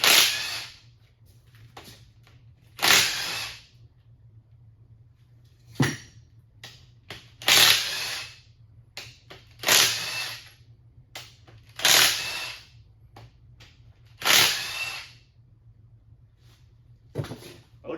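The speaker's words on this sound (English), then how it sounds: "All you guys that are easily offended by power wrenches, I don't care." Power wrench working on a 440 engine out of a 1968 Coronet, firing in about eight sharp bursts spaced a couple of seconds apart, close and loud with quiet gaps between.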